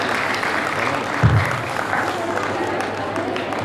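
An audience at an Independence Day celebration gives a short burst of clapping, a moderately loud, blurred patter of hands with a brief thump partway through, lasting only a few seconds.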